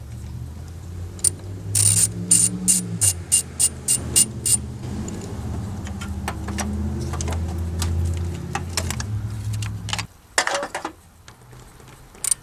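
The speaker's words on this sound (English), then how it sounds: "I'm just going to take off this hold down with a 10mm deep socket" Ratchet on a 10mm deep socket loosens the battery hold-down of a 2007 Honda Odyssey, giving a rapid run of close, loud clicks that stops after a few seconds. Scattered clicks follow, then a final burst of handling noise.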